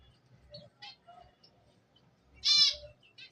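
Pet cockatiels and zebra finches in a cage, a few scattered short chirps and tweets with one louder, harsher call near the end, close by and otherwise quiet between calls.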